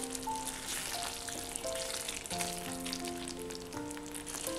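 Red spinach kofta curry frying in hot oil gives off a steady, dense sizzle with crackling pops, close and loud throughout, with no talking.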